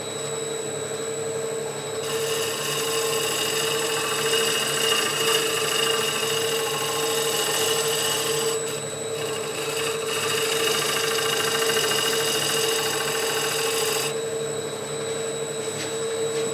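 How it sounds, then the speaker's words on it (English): A wood lathe spins a bowl blank while a tool shear-scrapes the surface, a loud steady whine and hum with stretches of brighter scraping hiss that start and stop. "There's going to be a little shear scrape here and there."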